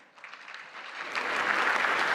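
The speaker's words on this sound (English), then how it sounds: "They got a tepid applause." Polite, modest applause from the crowd at the White House Correspondents' Dinner, scattered clapping that builds slightly and stays steady over a couple of seconds.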